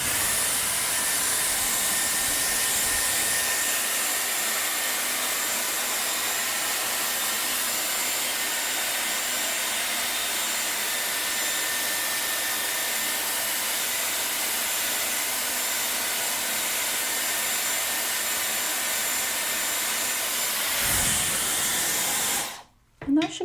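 A Dyson hair dryer blows steadily and loudly on hair, a continuous close airy roar lasting throughout before cutting off abruptly near the end.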